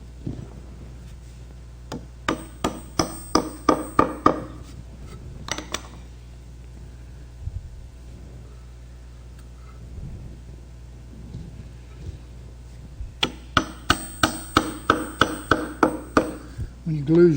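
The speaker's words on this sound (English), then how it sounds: "You notice I picked up a little hammer to drive that." A small hammer drives a tapered wooden plug into a hole aligned with the grain in woodworking, giving two bursts of quick, regular taps that build in strength, separated by a quieter stretch with a few isolated knocks.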